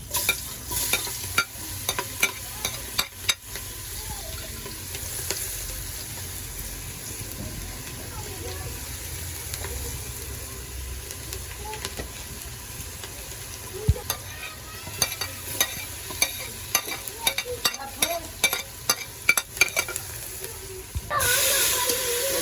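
Chopped garlic and onion sizzling in a hot pan with chicken for creamy sopas, a steady crackling hiss broken by scraping spoon strokes, with occasional talking over the cooking.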